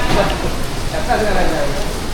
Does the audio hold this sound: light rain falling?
yes